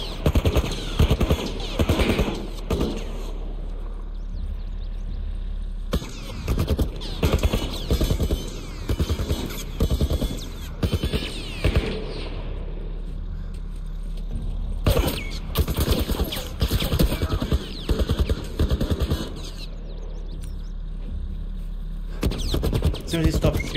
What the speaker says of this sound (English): Military turret, just stay down.